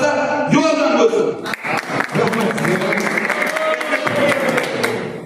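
Applause from a crowd at the Sherobod FC New Year celebration, bursts of clapping rising and fading over and around a man's speech.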